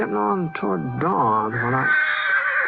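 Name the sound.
horse neighing in a corral, radio drama sound effect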